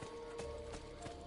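Horse hooves clip-clop in Assassin's Creed II, three or four faint, evenly spaced hoofbeats sounding off at a distance over a steady tonal game backdrop.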